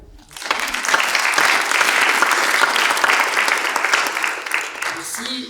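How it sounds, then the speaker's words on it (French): Audience applause at a talk, a dense burst of many hands clapping that rises quickly, holds loud and full for several seconds, then thins out toward the end. "Et on peut applaudir."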